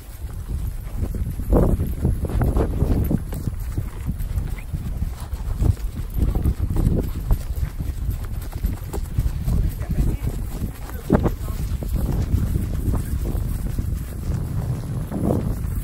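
Slow, uneven clip-clop of horse hooves plodding along outdoors, with steady wind noise buffeting the microphone throughout.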